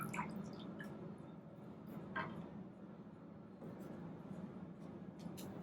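Water drips and trickles off a whetstone lifted out of its soaking water, with soft wet splashes and a low room hum behind, close and fairly quiet over a few seconds.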